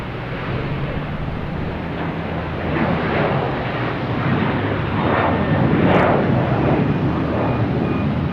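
Cape Air propeller airplane at Boston Logan Airport, a steady broadband engine roar at moderate distance that swells gradually, with no talk.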